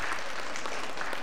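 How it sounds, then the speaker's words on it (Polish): A ballroom dance competition audience at a Christmas ball in Warsaw applauds in a dense, steady roar of many hands clapping together, loud and continuous throughout. "Wielkie brawa, no."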